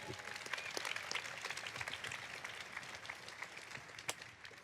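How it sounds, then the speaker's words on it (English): Audience applause at a 2018 CATSYS conference event, a steady wash of clapping from a crowd lasting a few seconds at moderate, somewhat distant level, with a few sharper individual claps standing out. "Give them a round of applause."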